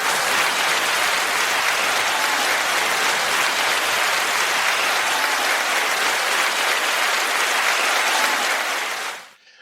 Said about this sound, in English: Enough with the clapping already.